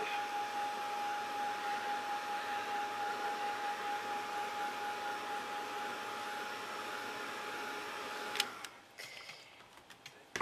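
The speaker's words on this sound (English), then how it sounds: "I'm just going to dry that. Heat set it." A heat tool blows steadily to dry and heat set mixed media artwork, a constant close whirring hum that stops after about eight seconds, followed by a few light clicks and taps.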